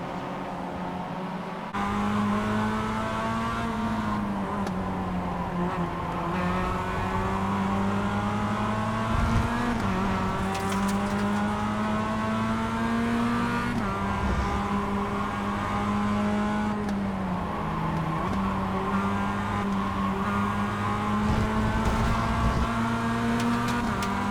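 Mazda MX-5 race cars in a simulated Global MX-5 Cup race at Okayama drone continuously, engine pitch rising and dipping through gear changes as a pack runs nose to tail, loud and steady with no talk.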